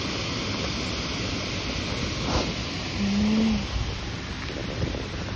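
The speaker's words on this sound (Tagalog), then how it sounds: "Siguro malakas kasi alon." Steady broadband roar of waves and surf on a beach in Japan in summer, with wind buffeting the microphone and a slight swell partway through.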